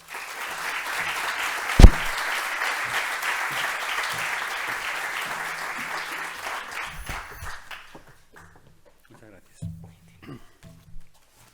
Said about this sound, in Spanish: Por favor, Juan Carlos de Margarida, un aplauso.